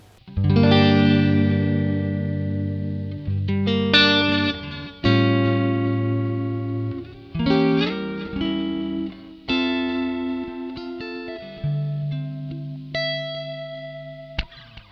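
Electric guitar through an Ibanez ES3 Echo Shifter analog delay, loud sustained chords and single notes trailing into repeating echoes that smear and pitch-warp as they fade, with no talking.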